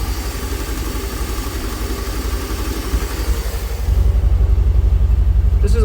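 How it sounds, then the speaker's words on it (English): Idling engine of a 1965 Dodge Van, long parked and running on old fuel, a steady low rumble that grows noticeably louder and fuller partway through, with no talk over it. "This engine is just super quiet."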